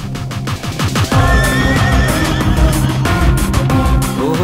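A horse neighing loudly and close, a long wavering whinny with shaky pitch that rises and falls over several seconds, alone without talk.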